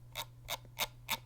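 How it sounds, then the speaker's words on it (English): The scroll wheel of a Zowie EC3-C gaming mouse turns in four brief notched bursts, each a soft ratcheting tick, evenly spaced about a third of a second apart, faint and close over a low background hum. "Scroll wheel."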